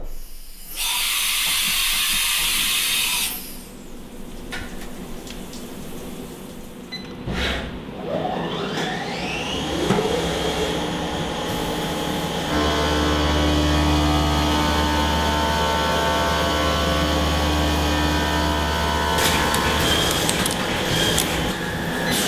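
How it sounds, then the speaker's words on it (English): A saw cuts solid 12-foot aluminum bar stock to length, starting with a loud hissing burst and then settling into a sustained high whine with layered harmonic tones and a low hum, loud and steady with no talk. "the first step is basically to cut all of the pieces to length"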